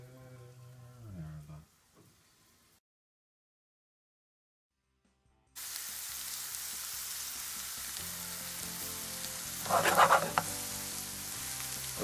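Onions, garlic, red pepper and mushrooms sizzle in a pan for homemade pizza, a steady close frying hiss after a quiet gap, with a brief louder stirring burst near the end.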